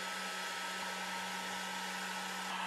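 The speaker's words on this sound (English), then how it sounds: "The pump is also very strong." The air assist pump of an Atomstack laser engraver runs with a steady, strong airy whoosh and a constant low electric hum. It stays even and close throughout, with no voices.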